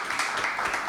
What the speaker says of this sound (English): A small applause for Terence